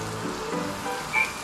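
Garlic and onion sizzle together in a frying pan, a steady close hiss of hot oil running throughout with no talking.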